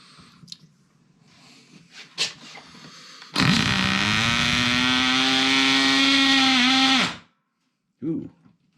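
An engine cranks and catches, running with a steady, loud droning hum for several seconds before it abruptly cuts out as it locks up; faint voices and small clatters come before it, and a brief sound follows.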